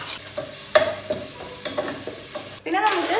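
Mustard seeds, onion and carrot fry in a hot pan, a crackling sizzle punctuated by several sharp scrapes and clatters of stirring, with the frying swelling louder at the end.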